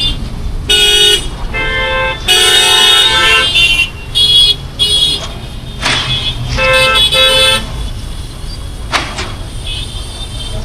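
Busy evening street traffic backed up where vehicles make U-turns, with repeated car horns honking in bursts of varying length over a steady engine rumble, some long blasts and short toots, fairly close.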